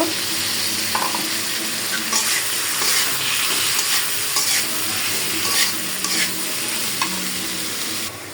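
Steady sizzling of bitter gourd and shrimp frying in a wok, with repeated scraping and stirring clatters throughout, close and fairly loud.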